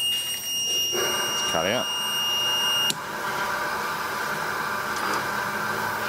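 A die sink EDM machine sounds a steady electronic alarm tone that cuts off abruptly partway through, followed by ongoing machine hum and a brief chirp, with a person speaking briefly.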